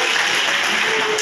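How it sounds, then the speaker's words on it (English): A workshop audience breaks into steady applause, many hands clapping in a dense, continuous wash that stays loud and close. "If you like the idea, clap."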